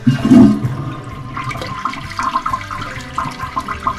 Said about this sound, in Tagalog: ipa-plus natin yung tubig para maubos yan